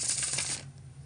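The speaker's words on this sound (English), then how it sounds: "when I do the bridge shuffle," Tarot card deck given a bridge shuffle, a dense crisp riffling flutter of cards for about half a second, then a quieter tail of soft card settling, close and alone.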